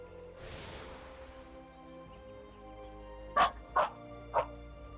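Three short, loud dog barks from a video game, spaced about half a second apart near the end, following a stretch of quieter background sound.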